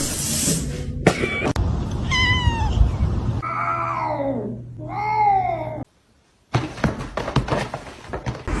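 A house cat meows and caterwauls near a kitchen counter in several drawn-out, wavering calls between thumps and clatter, with a brief silence partway through.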